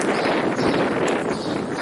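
Wind buffets the microphone in a constant broad roar, loud and close, with no voices.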